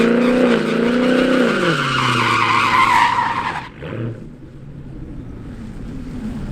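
A Ford Mustang 5.0 doing a burnout at a private track: loud, steady tire skidding and engine roar for about three seconds, then an abrupt cut to quieter idle and faint background noise.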